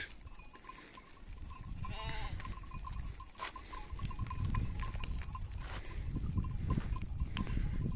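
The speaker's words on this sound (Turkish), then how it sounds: "Hayvanların geçmesini bekliyoruz. Koyun, keçi karışık." A mixed herd of sheep and goats passes along a road, bleating repeatedly over a steady rumble of hooves and movement, with a faint bell-like clink in the background.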